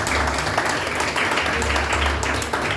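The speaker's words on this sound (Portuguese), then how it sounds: "Você pode aplaudir ao Senhor Jesus?" A congregation applauds during a Portuguese-language family church service, dense continuous clapping from many people in a reverberant hall over a low musical hum, loud and steady throughout.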